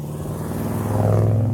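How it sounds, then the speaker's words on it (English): A car engine hums and rises as a vehicle approaches and passes close by on the road, a steady rumble building in loudness. "Another car."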